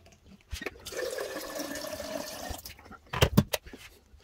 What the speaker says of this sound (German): Dann machen wir uns einen Pott heißes Wasser.